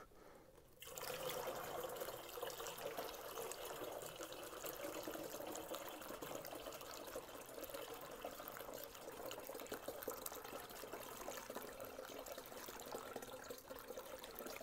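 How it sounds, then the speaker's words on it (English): Water filling a container on a scale for a 50/50 methanol injection blend, a steady soft pouring and trickling that begins after a brief quiet moment and continues evenly to the end. "we're going to fill it up until we have 2 pounds and 11 ounces of water."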